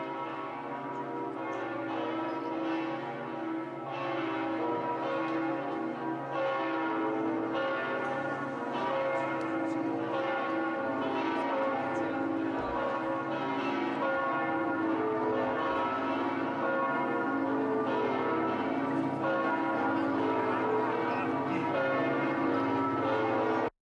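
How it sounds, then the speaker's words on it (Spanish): A large church bell on a clock is struck by two Moor automaton figures, giving steady repeated strokes whose ringing hum overlaps and sustains throughout, heard without any talking. "Los 2 moros que golpean la campana son similares, pero no idénticos"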